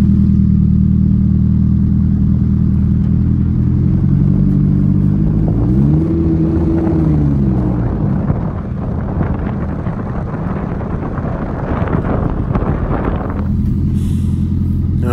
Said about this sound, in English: You hear some clanking. It's just a bracket that's bouncing against the frame.